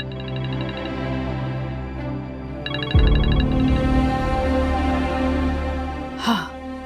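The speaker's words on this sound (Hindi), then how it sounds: "आपका फोन बज रहा है" Phone ringtone in a Pakistani drama scene, a steady repeating electronic melody that carries on over a low musical background, with a brief vocal sound near the end.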